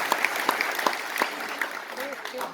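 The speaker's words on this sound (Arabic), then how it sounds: "وهذه خصني شي تصفيق" Audience applause at a talk, scattered claps heard over a room with a speaking voice, moderately loud and brief.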